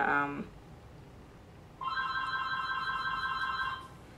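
A telephone rings with one steady electronic trill lasting about two seconds, fairly close, in a quiet room with no talk.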